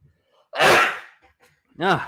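One sharp, loud sneeze from a baseball game commentator, close to the mic, then a short breathy voiced sound after a pause.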